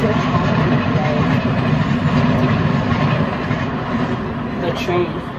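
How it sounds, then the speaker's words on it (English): A train passes nearby, a continuous loud rumble and rolling rail noise that slowly eases toward the end. "The train."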